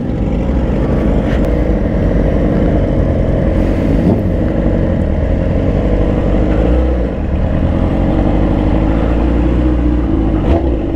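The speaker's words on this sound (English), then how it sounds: "he's letting the little homie rev the bike" A motorcycle engine running loud and close, a continuous dense rumble with slight swells as the throttle is worked, holding steady for the whole stretch without a break.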